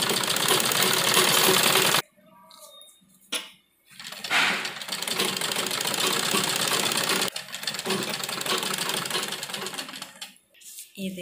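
An electric sewing machine runs a seam along a salwar in long steady bursts with brief pauses between, close and fairly loud, with a buzzing rattle throughout.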